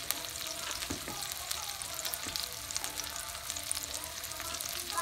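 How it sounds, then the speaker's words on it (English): Beef short ribs, cut in big chunks, fry in hot oil in a stovetop skillet, giving a steady, close crackling sizzle with dense popping throughout and no talking. "I'm fixing to drop it in the oil. Skillet's getting hot."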